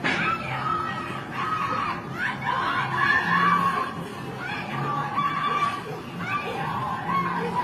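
People scream in panic during a shooting, caught from a distance by a neighbor's security camera; shrill, strained cries rise and fall continuously over a steady noisy background with no clear speech.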